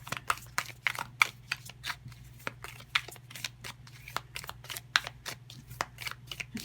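Tarot cards being shuffled by hand: a long run of quick, crisp riffling snaps and flicks, close and fairly quiet, with a steady low hum underneath and no talking.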